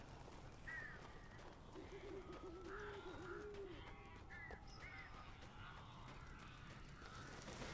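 Birds coo and call softly inside a building in the video game Alan Wake, faint repeated warbling coos over a constant low ambient hiss.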